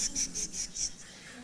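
A person imitates a cicada with a voice, making a series of five or six rapid, hissing chirps in a steady rhythm, fairly faint and close, during a panel event.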